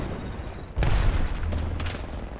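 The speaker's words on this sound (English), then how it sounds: "Grenade." A thrown grenade detonates in the battle royale video game Apex Legends, one sharp, loud, close boom followed by a short rumbling tail and a second faint burst.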